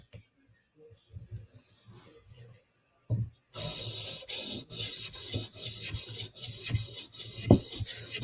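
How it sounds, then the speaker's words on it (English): A knife blade rasps back and forth on a 400 grit whetstone in regular, evenly spaced strokes, loud and close after a quiet start with a few soft scrapes. "Now we can switch stones to our 400 grit stone."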